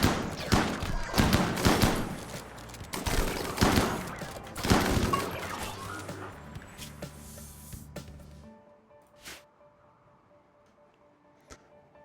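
RimWorld colony battle with rifles, shotguns and a manned mortar: dense overlapping gunfire and heavy thuds for about eight seconds, then thinning to a few isolated distant shots and a faint tick.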